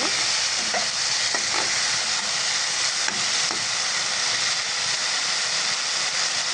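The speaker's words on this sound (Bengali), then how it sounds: "এবার ঢাকনাটা খুলে একটু নাড়াচাড়া করে দেবো।" Tomatoes fry in a pan with a steady, close sizzle while a spoon stirs them, making occasional faint scraping taps against the pan over the constant hiss.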